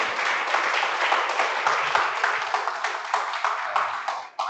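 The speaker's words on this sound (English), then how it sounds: "Shall we give a round of applause to Dr. Ahmed?" An audience at an academic lecture session gives a round of applause for the speaker. The dense clapping fills the whole clip at a steady level, then thins and fades out near the end, with no talk over it.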